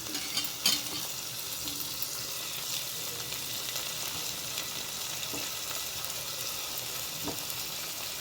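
Salted bitter gourd pieces frying in a pan, a steady soft sizzle throughout with a brief clatter near the start and a few faint stirring knocks.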